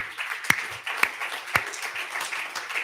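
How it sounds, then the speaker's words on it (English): Audience applause during an author read-aloud event, a steady wash of many hands clapping with a few sharper individual claps standing out, moderately loud throughout. "could we give another round of applause, everybody?"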